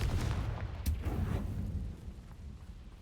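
A Confringo fire spell explodes in Hogwarts Legacy, a single rumbling blast with a sharp crack that dies away into a low lingering roar.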